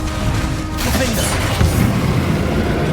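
A Confringo fire-spell blast in Hogwarts Legacy, a burst with crackling debris and a dull boom layered over busy game ambience and a low rumble.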